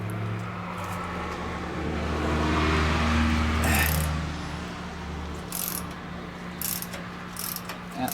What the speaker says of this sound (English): This is where I'm going to loosen this bolt up.